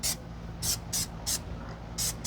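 An aerosol can spraying red paint onto an Audi S3/A3/RS3 vent ring, five short hissing bursts in an uneven rhythm, close and crisp over a low room hum.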